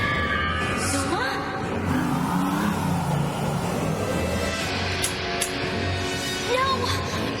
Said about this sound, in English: The engine.